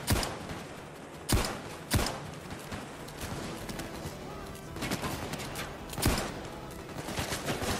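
Gunfire in the Payday 2 video game, with several sharp shots ringing out at irregular intervals over a busy game background, fairly faint overall.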